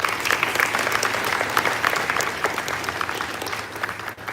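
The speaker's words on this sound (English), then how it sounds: "It calls for a round of applause." Clapping from a school audience fills a hall at a sixth form leadership summit, a dense, even round of applause that holds steady before tapering slightly at the end.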